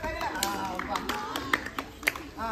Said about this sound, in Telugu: మీరు కూడా ఎంకరేజ్ చేయండి. క్లాప్స్ కొట్టండి.